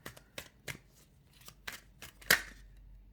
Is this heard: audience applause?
no